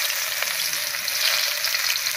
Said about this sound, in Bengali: এবার এই তেলের মধ্যেই দেবো পেঁয়াজ কুচি,